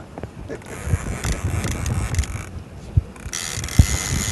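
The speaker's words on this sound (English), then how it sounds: "Rompy reels in the other line so they can't get tangled with Paul's catch." Fishing reel clicking and ratcheting as line is reeled in on a boat while fishing for redtail catfish, with faint irregular mechanical ticks, a few sharper knocks, wind, and voices talking over it.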